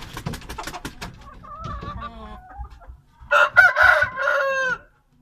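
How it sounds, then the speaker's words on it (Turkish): Young Indian rooster, about eight and a half months old, crowing and clucking close by: a series of short clucks, then a loud strained crow near the end. "diğer horozumu çıkarttık size"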